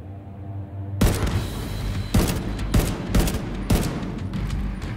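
Bursts of automatic gunfire in The Division 2, a close, loud fusillade of rapid shots punctuated by heavier booming blasts over a constant battle din, with no voices.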